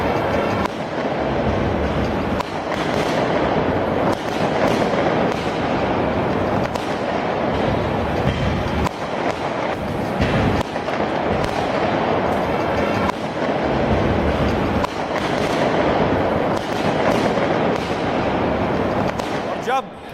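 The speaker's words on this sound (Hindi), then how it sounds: "आतिशबाजी हो रही थी, लोग पटाखे फोड़ रहे थे" Fireworks and firecrackers go off at a celebration in India, a dense run of loud cracks and booms repeating steadily over a constant rumbling din with voices in the background.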